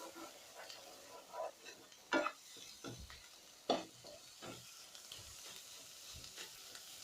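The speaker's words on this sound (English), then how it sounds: "Our sizzling hot egg keema is now ready." Egg keema sizzling hot in a pan, a quiet steady frying hiss with a few sharper crackles and pops, faint and close.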